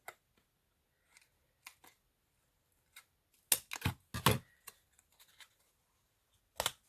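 Scissors snip through paper ephemera for a mini junk journal, a handful of sharp crisp cuts scattered across a quiet tabletop, with a denser cluster of snips in the middle and one more near the end.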